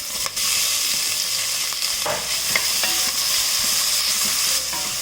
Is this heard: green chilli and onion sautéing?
yes